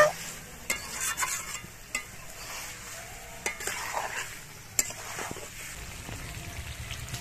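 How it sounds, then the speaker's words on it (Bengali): Cauliflower sautéing with spices in a pan sizzles steadily while a spatula scrapes and stirs, with occasional sharp clinks against the metal at irregular intervals; no one talks. "ফুলকপির সাথে খানিকক্ষণ আমি মশলাগুলো দিয়ে কষিয়ে নেব।"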